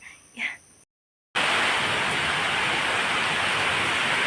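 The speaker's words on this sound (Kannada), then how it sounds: "ಮಳೆ ಬರ್ತುಂಟು ಇದು ಮೊದಲ್ದು ಮಳೆ" A faint voice comes first, then a short silence, then loud steady rain of the year's first rainfall roars continuously, dense and close.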